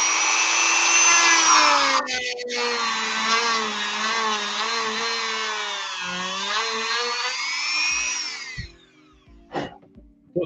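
A rotary tool grinds out the neck socket of a Grim Reaper action figure body, whining loudly and steadily with a wavering pitch for about eight seconds before cutting off, followed by a few light clicks and handling knocks.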